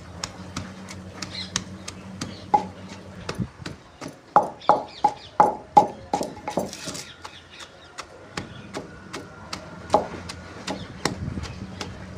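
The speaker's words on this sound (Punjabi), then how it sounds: "ਛੋਲੇ ਵੀ ਕੁੱਟੇ ਗਏ ਬਸ ਦਰਦੜੇ ਜਿਹੇ ਕੁੱਟਣੇ ਨੇ" Black chickpeas are pounded in a wooden mortar with a wooden pestle, giving a run of hollow knocks. A quick burst of evenly spaced thuds in the middle stands out against slower, softer strikes before and after, all close by.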